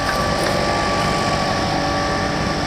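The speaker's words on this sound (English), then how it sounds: "don't mind the leaf blower. I've just got it running through some sea foam." A leaf blower engine running on Sea Foam, a loud steady high-pitched motor drone close by, constant throughout with no voices.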